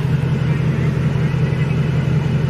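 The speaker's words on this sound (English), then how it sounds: "His car is so loud" A loud car engine drones at a steady, low rumble throughout, close and constant with no change in pitch.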